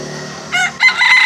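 A bantam rooster crows close and loud in two short bursts over steady background noise.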